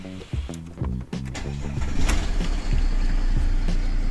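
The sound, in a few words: Mercedes CLS 3-litre diesel engine starting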